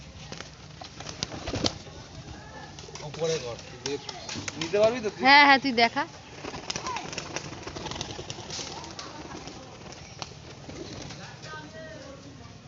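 Fantail pigeons coo in short bursts, and wings flap briefly near the middle while people talk on and off nearby.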